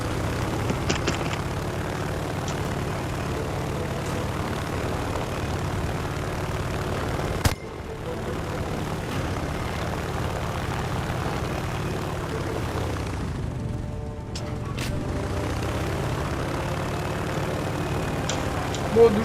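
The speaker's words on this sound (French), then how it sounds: "Maintenant, je vais vous montrer les gars comment on fait pour atterrir sur un porte-avions." A video-game aircraft engine droning steadily as the plane comes in to land on an aircraft carrier, a continuous loud hum with a brief thump partway through and a slight dip in tone later.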